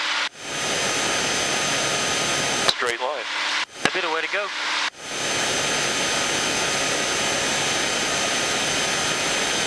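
A steady, loud engine drone fills the cabin of a small airplane in flight almost throughout, with a voice speaking briefly over it in the middle.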